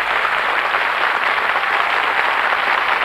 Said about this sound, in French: je vais vous demander de les applaudir vraiment fortement